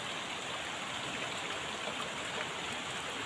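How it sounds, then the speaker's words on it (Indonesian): Heavy morning rain pours over a village, a dense even hiss of falling water that holds steady throughout with nothing else rising above it. "Bikin betah ya suasana hujan di pagi hari ini, sahabat"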